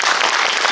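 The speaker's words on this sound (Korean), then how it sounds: "박수 부탁드립니다" Audience applause fills a film screening talk for Drive My Car, a dense, steady wash of clapping throughout the short moment with no voices over it.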